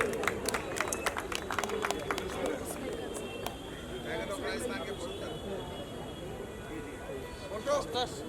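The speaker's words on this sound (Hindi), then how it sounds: "जोरदार तालियां होनी चाहिए." Applause from a seminar audience in a hall, clapping bursts mixed with crowd murmur and some voices, moderately loud and continuing unevenly through the clip.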